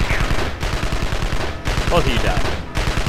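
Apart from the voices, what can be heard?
gunfire in the video game Evil Genius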